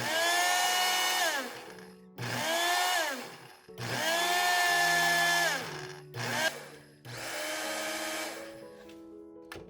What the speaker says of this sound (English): Simply grind until the powder reaches the texture you prefer.